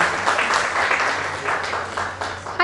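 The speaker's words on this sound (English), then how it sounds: "Big round of applause for." An audience at a communication talk on stage claps and applauds steadily, a dense, loud wash of hands in a hall that carries on throughout without anyone speaking.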